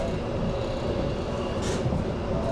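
Steady low rumble heard from aboard the Shonan limited express as it runs along the Tokaido freight line through the Shin-Tsurumi signal yard, with a freight train standing on the next track; brief, even and continuous, with no talk.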